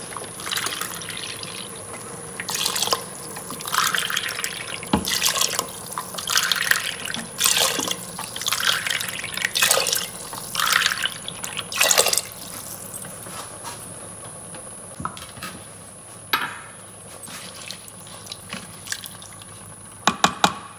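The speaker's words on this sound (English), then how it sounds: "I'm adding 1 cup of milk and 5 cups of water for 3 cups of rice." Milk and water pour and splash into an Instant Pot in several bursts for vegetable pulao, trickling and gurgling at close range, with quieter gaps between pours and no speech.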